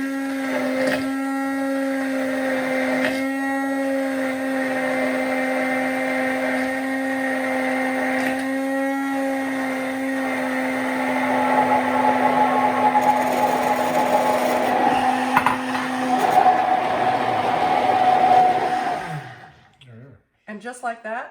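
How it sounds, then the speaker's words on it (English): An immersion blender whirs steadily and loudly for about twenty seconds while mixing oil into a vegan nutritional yeast salad dressing, its tone shifting slightly as the mixture thickens, then cutting off abruptly with a few clatters. "we're using the immersion blender"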